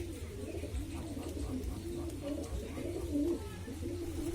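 Pigeons coo steadily in low, rolling phrases as they eat lentils, several birds overlapping close by with a constant soft murmur and one louder coo near the end.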